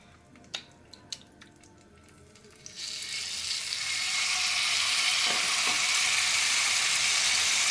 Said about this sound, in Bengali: প্রথমে একটু ফ্লেমটা জোরে দিয়েছি, তারপরে আমি মিডিয়ামে দিয়ে ভাজবো।